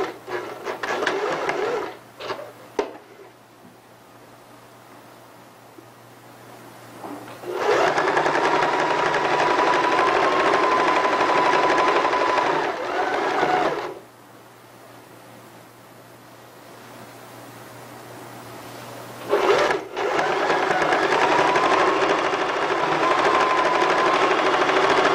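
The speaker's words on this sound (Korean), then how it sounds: "1cm를 접고 2cm 접어서 박음질을 하시면 되겠습니다." A sewing machine stitches a hem folded over 1 cm and then 2 cm, running in two long, steady whirring bursts with a quiet pause and hum between them.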